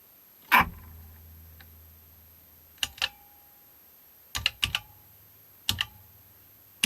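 Buttons on a 1970s DIGI digital scale keypad being pressed in scattered sharp clicks, single and in quick pairs, close and fairly loud against near silence.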